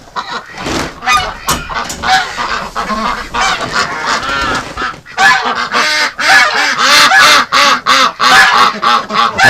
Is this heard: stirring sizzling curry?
no